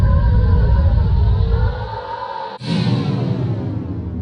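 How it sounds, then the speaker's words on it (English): Mouth-made sound effect of a plane falling: a dense, breathy roar that thins over the first couple of seconds, breaks with a brief gap, then returns as a bright, hissing rush with a slowly descending tone, loud and alone. "this one long sample to accompany the plane falling down"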